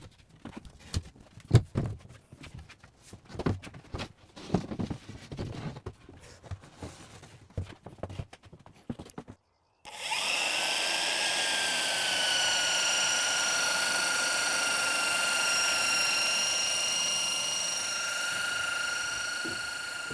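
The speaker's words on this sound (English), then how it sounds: "I'm using the belt sander because it removes material way slower than if I was using a jigsaw or something" Belt sander running steadily for about ten seconds while trimming a panel for a narrowboat bathroom, a continuous high whine following a stretch of irregular knocking and handling noise.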